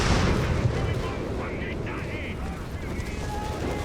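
Explosions and artillery fire rumble through a Company of Heroes 3 battle, a dense continuous barrage of booms and crackle with faint whistles over it, under talk.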